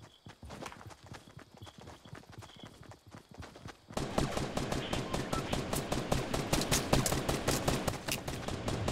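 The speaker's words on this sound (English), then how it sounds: "Should just concentrate on shooting him with bullets." Weapon fire in Fortnite rattles off in quick, evenly spaced shots, quieter at first, then a louder, sustained rapid burst that continues to the end.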